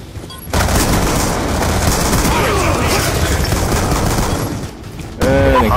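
Dense, sustained gunfire from the Call of Duty video game, with rapid overlapping shots and booms forming a loud continuous barrage for several seconds, briefly dropping near the end before resuming.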